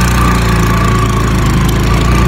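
A motorcycle engine idles loudly and close by with a steady, unbroken mechanical throb. It is heard on a road journey from Rapakot toward Pokhara in Nepal.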